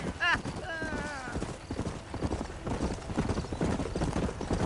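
Rapid hoofbeats of a horse galloping in the Western video game Red Dead Redemption, with a brief whinny at the start and steady clip-clop continuing under a man's spoken dialogue.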